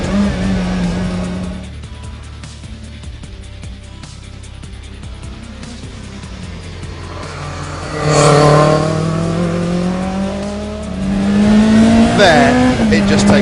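A rally car drives fast and accelerates hard, its engine note climbing and swelling through repeated revving surges over a steady road roar, with a voice talking over it.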